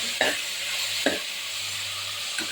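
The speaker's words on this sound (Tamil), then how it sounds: "நல்ல வெங்காயம் வந்து நல்லா வதங்கிருச்சுங்க இப்போ நம்ம எடுத்து வச்சுருக்க தக்காளியையும் நல்லா போட்டுட்டு" Onions and tomatoes sautéing in a pan for tomato rice, a steady soft sizzle with a few brief stirring scrapes, close and alone with no talk.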